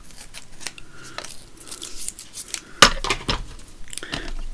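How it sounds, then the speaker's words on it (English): Scissors trim paper around a cut-out shape for a Tim Holtz craft project, a series of close, crisp snips in an irregular rhythm with faint rustling of paper between cuts. "Trim around it."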